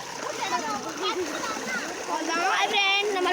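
Water of a small local waterfall splashes and rushes steadily, with children's voices chattering and shouting over it throughout.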